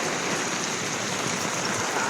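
Steady rain pours down outdoors during a heavy downpour, soaking a parked tricycle motorcycle; a dense, even hiss of drops fills the scene without a break, close and fairly loud.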